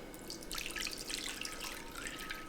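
Drained potato water, left from grated potatoes for leek latkes, carefully poured off, a continuous soft trickle and splash throughout with no talk.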